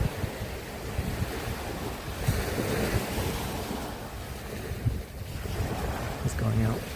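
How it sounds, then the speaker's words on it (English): Ocean waves on a Gulf of Thailand beach, a rolling, washing surf mixed with gusty wind buffeting the microphone, surging and easing over several seconds, with faint voices now and then. "the ocean, the Gulf of Thailand"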